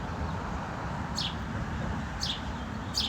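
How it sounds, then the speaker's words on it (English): Three brief high chirps from birds sound at intervals over a steady outdoor hum of background noise, fairly faint and spaced apart, with no speech. "The birds chirping."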